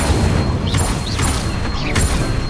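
Incendio fire spell cast in the game Hogwarts Legacy, heard as a few quick fiery whooshing bursts over a dense, continuous game soundscape, with no voices.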